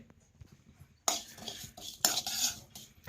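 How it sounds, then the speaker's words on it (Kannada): Masala spices stirred and roasted in a pan for a village-style fish fry, with a quiet start, then bursts of close metal scraping and clinking of a spoon against the pan, loudest near the middle. "ಮಸಾಲೆನ ಹುರ್ಕೊಳ್ಳೋಣ್ರಿ"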